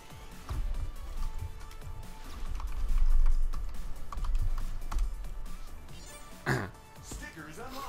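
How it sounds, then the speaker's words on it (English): Sporadic clicking of computer keyboard keys, close and soft, scattered under a low background murmur and a brief throat-like sound. "if you hear me sporadically typing in the background"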